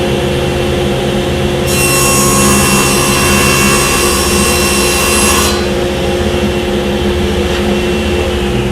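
A saw cuts through a quarter-inch wood panel for a Shaker door, a loud steady rasp that swells for about four seconds over a constant shop-machine drone.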